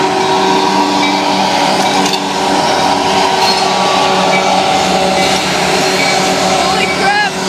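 A passing train pulled by locomotives makes a loud, continuous rumble and roar that stays steady throughout, with a brief squeal near the end.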